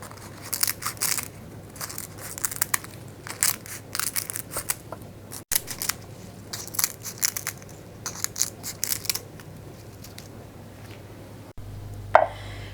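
Quick, irregular knife chops through bay leaves on a board, crisp and close, coming in bursts with short pauses.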